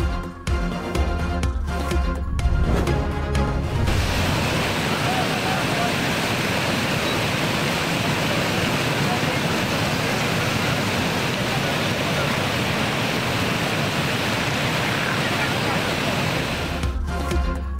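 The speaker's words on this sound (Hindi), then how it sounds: "तेज़ बारिश के बायस इस्लामाबाद की सड़कें पानी पानी" Heavy monsoon rain pours down on a flooded street in Islamabad, a dense, steady roar of falling and rushing water that fills the scene after a brief stretch of someone talking at the start.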